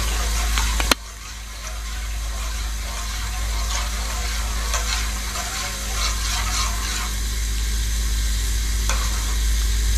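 Jelly stirred into hot water for a fruit custard trifle, a steady close watery swirl and scraping with a faint hum underneath and a sharp knock near the start, no voices.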